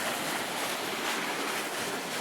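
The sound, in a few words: levee pump pumping water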